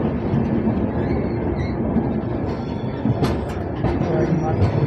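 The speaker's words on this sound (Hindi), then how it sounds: "अब अपनी रणथंभौर एक्सप्रेस अपने उस स्टेशन पर पहुंच गई है" The Ranthambore Express rolls into Sawai Madhopur Junction on the Jaipur to Indore run, a steady low rumble of wheels with clicks and squeaks near the end.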